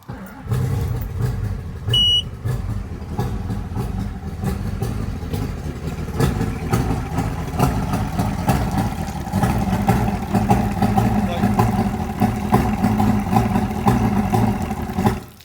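An Evinrude E-TEC 250 outboard boat motor starts and runs steadily with a low, rumbling engine drone and some mechanical clatter, continuing without pause throughout.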